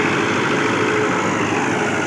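A Fiat 640 tractor, rated 85 HP, runs with a steady, loud diesel drone that holds close and continuous the whole time, with no talking.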